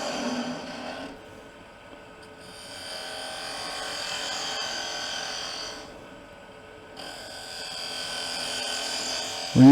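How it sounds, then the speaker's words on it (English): A wood lathe hollows a wooden biscuit cutter with a 3/8 spindle gouge, producing a fairly quiet, steady motor hum with swelling and easing bursts of cutting noise. "we're going to hollow out this portion here. And we're just going to come in and go ahead and start cutting into that"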